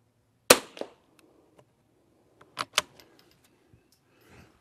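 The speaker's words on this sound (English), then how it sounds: "And the fifth shot" Savage rifle fired at an outdoor range, one sharp loud shot near the start, then a few quieter clacks and metallic handling sounds spaced out over several seconds.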